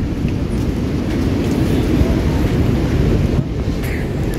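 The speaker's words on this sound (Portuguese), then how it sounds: "Provavelmente esse vento vai parar logo mais." Steady, loud wind buffets the microphone on the beach at Enseada in Guarujá, a continuous low rumble with a faint sea wash behind it. Nobody speaks.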